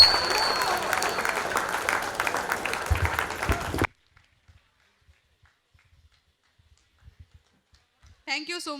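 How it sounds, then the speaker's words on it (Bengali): An audience applauds after a stage performance, a dense round of clapping that lasts nearly four seconds before cutting off into near silence, followed by a faint sound at the end. "একটা জোরে হাততালি হোক এদের জন্য।"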